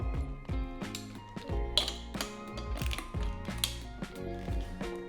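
A ratchet wrench turns out a bolt on a Honda CB200T motorcycle, a close series of rapid mechanical clicks and clacks with short pauses between strokes.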